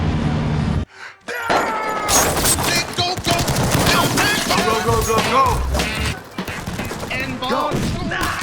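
Heavy gunfire in a Sylvester Stallone and Jason Statham action movie, dense sustained bursts and crashes close and loud, with shouted voices mixed in.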